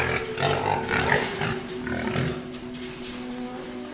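A pen of twelve growing pigs on a farm grunts and snuffles steadily, a dense, continuous chorus of close animal noise with a low mechanical hum running underneath.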